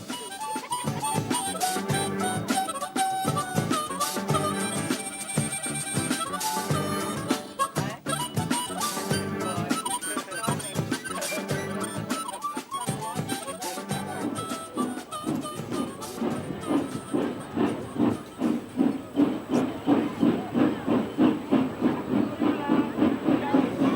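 Steam train waiting at a station with passengers boarding ahead of departure, a steady hiss of steam and mechanical clatter filling the scene, building toward rhythmic chuffing near the end.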